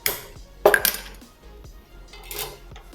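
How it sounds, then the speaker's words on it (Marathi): A metal cooking pot clanks down onto a gas stove with a sharp knock, then a few lighter rattles and scrapes, in a home kitchen. "चालू करते पातेलं गरम करायला ठेवते"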